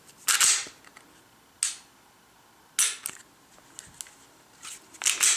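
Sharp dry-fire trigger clicks from a Glock 19 fitted with a Skimmer trigger and a 3.5 pound connector, several separate crisp snaps spaced about a second apart, close and fairly quiet, with small handling noises between them.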